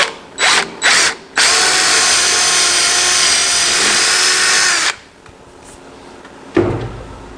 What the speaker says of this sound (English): I'm bolting these in place with carriage bolts.